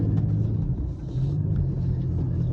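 A car's engine rumbles low and steady while its wheels spin, stuck in a muddy field by a Ukrainian corn crop, a continuous muffled drone with no talking.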